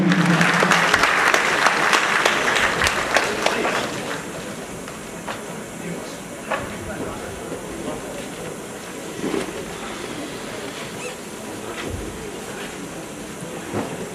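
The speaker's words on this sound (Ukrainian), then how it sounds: "Давайте оплесками привітаємо вельмишановну суддівську колегію." Audience at the 2007 Carpathian Cup boxing competition claps loudly to welcome the judges, the applause strongest at first and then fading into scattered claps and crowd murmur.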